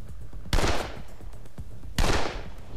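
Two loud, sharp gunshots in a video game, each a sudden broadband blast with a short decaying tail, spaced about a second and a half apart over a quiet, steady background.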